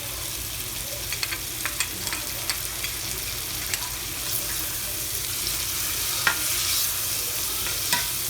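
Garlic sautéing with mushrooms and onions in a pan, a soft continuous sizzle with occasional light clicks of stirring, no talking.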